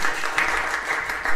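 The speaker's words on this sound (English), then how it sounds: "you're going to give a round of applause" An audience at a school sixth-form recital gives a round of applause, a steady, even wash of many hands clapping at moderate distance, continuous throughout with little talk.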